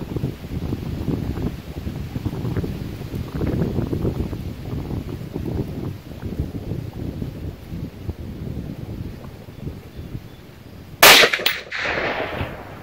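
A single sharp rifle shot from a 16-inch 350 Legend rifle cracks out loudly near the end at a 100-yard range, after a stretch of steady wind noise and rustling, with no talk.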